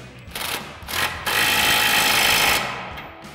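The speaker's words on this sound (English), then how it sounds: "we'll grab our 18 mil socket on our impact" An impact wrench with an 18 mm socket tightens the top suspension nuts on a Jeep Wrangler JK. It gives two short rattling bursts, then a loud sustained hammering run that fades out, all close by.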